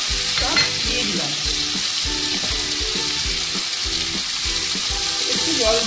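Ground poppy seed, tomato and cashew pastes fry in a pan with a loud, steady sizzle and bubbling, while a spoon scrapes and stirs in a repeated rhythm over it.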